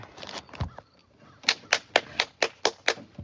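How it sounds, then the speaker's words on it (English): Hands clap sharply outdoors to drive crows off a pecan tree: a few irregular claps, a short pause, then a run of about eight loud, evenly spaced claps close by. "They don't like the sound of the clap of your hands."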